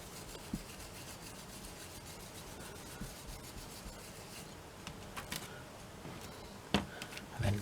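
Ink is rubbed over a dot stencil on cardstock, a close, steady scratchy rubbing that runs throughout, with a few sharp taps and knocks near the end.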